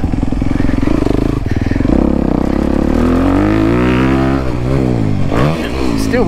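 A 2023 Honda CRF 250R dirt bike rides a track at Washer Valley, its engine revving loud and close, rising and falling through the gears with clatter.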